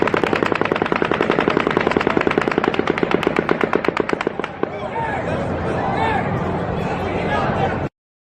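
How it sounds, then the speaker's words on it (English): Rapid automatic gunfire from Mandalay Bay during the Route 91 festival shooting in Las Vegas, a loud fast volley of sharp cracks that cuts off abruptly, followed by crowd noise and voices. "the 12th and final volley of automatic gunfire from Mandalay Bay begins"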